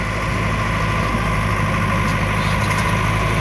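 A Swaraj 855 tractor hitched to a large 16-tyre trolley runs close by with a loud, steady diesel rumble and constant vibration. No speech is heard.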